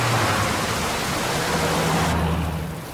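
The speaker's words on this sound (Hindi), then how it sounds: "ऊपर से इतनी बारिश है पूछो मत" Heavy rain pours steadily in a continuous broadband hiss, loud and even throughout, with a low hum beneath it.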